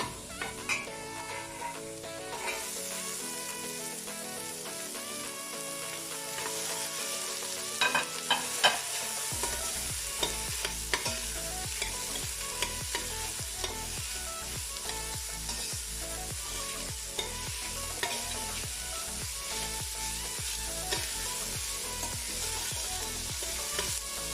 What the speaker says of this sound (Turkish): Şimdi soğanını ekleyip kavuruyorum